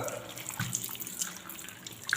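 Tap water runs steadily in a household setting while someone wearing gloves rinses, a continuous hiss and splash heard alone at moderate level with no talking.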